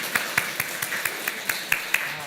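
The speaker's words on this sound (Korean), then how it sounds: "한번 우리 박수해 주시면 우리 부모님 받겠습니다." A church congregation claps in slow, even unison, roughly nine crisp claps in two seconds. The claps are fairly faint over a quiet room.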